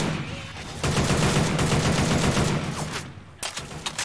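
Rapid automatic AK rifle fire in the zombie shooter Left 4 Dead 2, a loud sustained burst of closely spaced shots that breaks off briefly, then resumes with a few more cracks.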